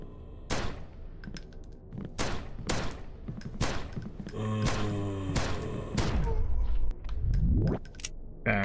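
Pistol shots in a horror game, a string of sharp loud bangs fired at irregular intervals, with ringing game effects and impacts between them.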